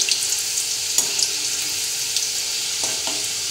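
Nimki frying in hot oil, a loud continuous crackling sizzle close by, with a few scraping knocks of stirring scattered through it.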